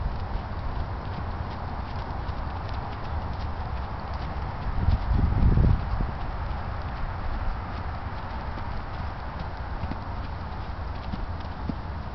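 Horse trotting on a lunge line, a steady stream of rhythmic hoofbeats under windy outdoor noise, with one brief louder thump near the middle.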